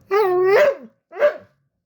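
A male pet dog lets out a loud, drawn-out whining bark that bends in pitch, then a pause and one shorter bark, close to the microphone.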